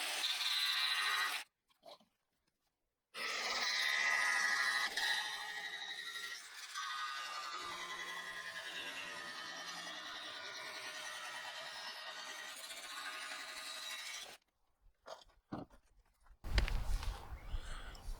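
A magnetic whiteboard panel for a freezer door faceplate is cut with a long, steady, harsh grinding rasp lasting about ten seconds, with brief rough bursts and silent gaps before and after.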